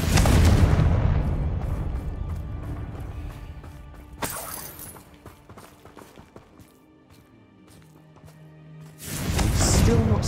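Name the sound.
explosion from the Confringo spell in a video game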